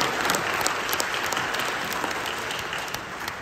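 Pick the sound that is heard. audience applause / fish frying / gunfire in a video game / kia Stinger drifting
audience applause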